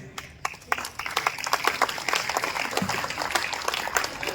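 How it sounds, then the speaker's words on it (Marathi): Audience applause for a student at a Marathi school merit-award ceremony, dense steady clapping from many hands, moderately loud, continuing throughout. "मी एकदा नाव सांगतो फक्त त्यासाठी टाळ्या वाजवत त्याला पुढे बोलू आपण."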